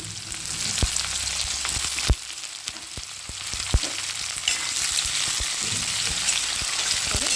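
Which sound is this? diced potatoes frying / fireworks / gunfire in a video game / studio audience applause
diced potatoes frying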